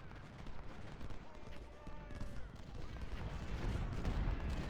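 Distant artillery and gunfire rumble steadily through a Civil War strategy game battle, with dense, continuous low booms that grow slightly louder toward the end.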